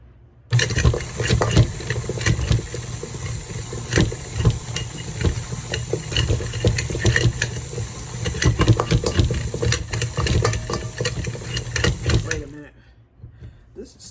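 An electric mixer whirs steadily as it beats tarragon butter in a bowl, with a loud, continuous rattling drone that runs for about twelve seconds and then cuts off abruptly.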